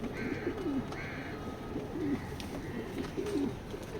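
A racing pigeon coos softly in repeated low, throaty phrases, about three calls over a steady background murmur.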